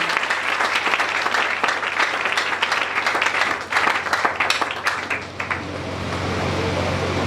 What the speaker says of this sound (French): Est-ce qu'on peut acclamer pour les Seigneurs?